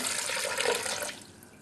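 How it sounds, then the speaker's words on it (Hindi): Water poured into a pot of beef for Kashmiri hareesa, a steady loud rushing splash that runs for about a second before dropping off to a quieter trickle. "अब मैं इसके अंदर पानी डालूंगा।"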